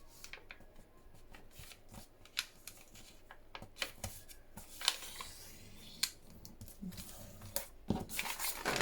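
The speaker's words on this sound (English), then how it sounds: "just gonna pull that off the edge very slightly, and then give myself a fold line." A paper collage strip being pulled off an edge and folded concertina style, giving soft papery crinkles, rustles and sharp creasing taps that come close and intermittent, growing busier toward the end.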